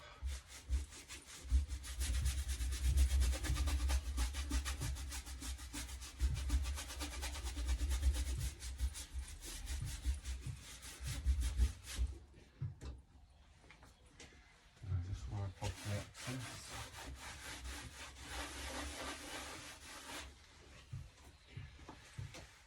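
A brush scrubs clear wax onto chalk-painted wooden furniture in a distressed shabby chic finish, a close, rhythmic rough rubbing that pauses briefly and resumes, with a person talking over it.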